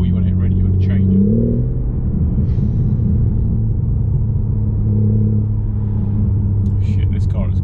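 A BMW M4 Competition engine rumbles steadily, then climbs in pitch as the car accelerates, heard from inside with someone talking over the engine drone.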